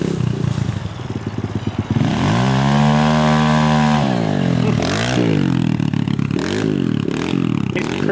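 A mud-caked dirt bike engine loud and close, revving hard in repeated rising and falling bursts with a sustained high wail midway, mechanical clatter throughout.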